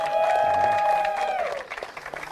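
Crowd applause for the third place finisher at a UAE motor racing round in Al Ain, a brief burst of clapping that fades after about a second and a half, with a long tonal tone sustained over it.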